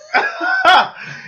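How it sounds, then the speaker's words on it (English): A short, abrupt throaty burst close to the mic, a voiced gulp-like sound followed by a brief trailing vocal noise. "Did you just burp?"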